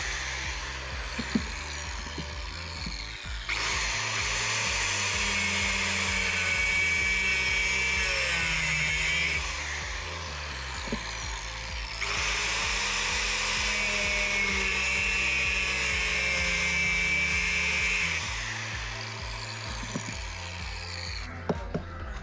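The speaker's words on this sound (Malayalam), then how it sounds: "നമ്മൾ ആ വക്ക് ഭാഗം മാത്രം നമ്മൾ ഒന്ന് മിഷൻ വെച്ചിട്ട് കട്ട് ചെയ്യുന്നുണ്ട്" Power tool cutting through the wire-reinforced rim of an old scooter tyre, a high whining grind in two long sustained passes of several seconds each, close and loud, with brief pauses between.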